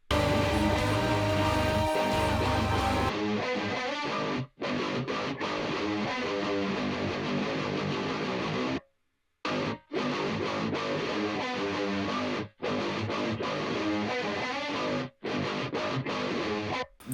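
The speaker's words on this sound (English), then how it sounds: "This guitar tone was my Marshall JVM and my Orange Dual Dark in stereo together, profiled onto the Quad Cortex" Quad-tracked distorted electric guitars, a Marshall JVM and an Orange Dual Dark profiled in stereo on a Quad Cortex, play a loud, dense riff with rhythmic stops and short gaps between chugging phrases.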